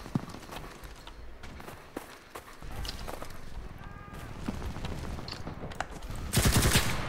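Machine gun fire in the World War II shooter Enlisted, with repeated bursts of shots spread over several seconds and a louder, denser volley near the end, set within a busy battlefield.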